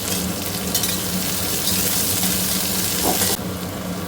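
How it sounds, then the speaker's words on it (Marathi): Curry leaves, onion, green chilli and garlic frying in hot oil for palak paneer, giving a loud, steady crackling sizzle close by that eases slightly near the end, with no voices. "कढीपत्ता कांदा आणि हिरवी मिरची लसूण हे व्यवस्थित पहिले फ्राय करून घेते"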